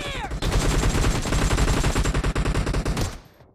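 Automatic gunfire in a PUBG Mobile match hammers out as a loud, rapid stream of close shots, after a brief ringing tone at the start, then cuts off abruptly.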